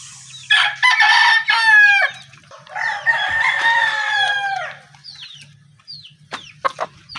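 A Maclean Hatch gamefowl rooster crows loudly and nearby, two strained, wavering calls, followed by a few short clucks and scattered clicks over a faint low hum.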